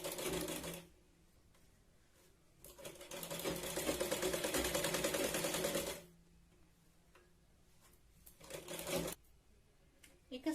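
A sewing machine stitches a Katori blouse in two runs of rapid, steady needle clatter, with a short burst near the end and quiet pauses between, close up and alone.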